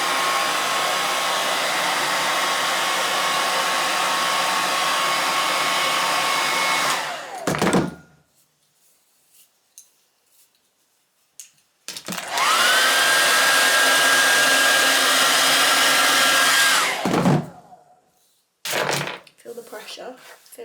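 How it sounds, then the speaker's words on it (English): A hair dryer blows loudly and steadily while hair is styled with a barrel brush, running in two long bursts separated by a few seconds of near silence with small handling clicks. "Position the hair like that and then blow dry it."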